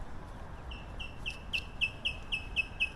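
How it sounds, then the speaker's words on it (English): Small birds chirp outdoors near a flea market and church in Chongqing, China, giving a quick run of repeated high tweets that grow clearer and more regular over a steady low background hum. "It's nice, and you got the birds chirping."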